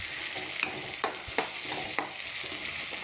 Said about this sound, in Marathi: थोडंसं तेल टाका आणि त्याच्यामध्ये कांदा टमाटा छान मस्तपैकी फ्राय होऊ द्या